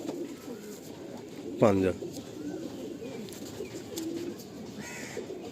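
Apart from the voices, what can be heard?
Madrasi pigeon cooing while being handled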